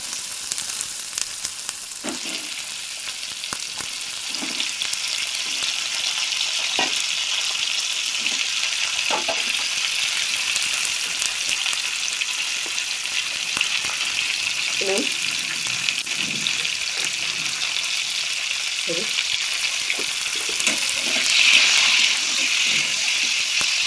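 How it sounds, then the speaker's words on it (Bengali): Potatoes and winter vegetables frying lightly in a pan for a tangra fish curry, a continuous close sizzle with occasional stirring clatters and a brief louder hiss near the end. "এবার আলু সবজিগুলো আমি ভেজে নেবো"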